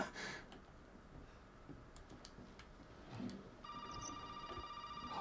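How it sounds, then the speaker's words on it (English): In Resident Evil 7, a telephone starts ringing in the last second and a half, a steady electronic trill over a dim, quiet backdrop of faint ticks and clicks. "oh, the phone's ringing."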